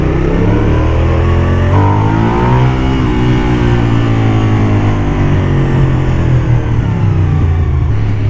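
Suzuki SV 1000 S V-twin motorcycle from 2003 idling low in the revs, a loud, close, uneven lumpy rumble with a brief pitch rise near two seconds before settling back to a steady burble, no talking.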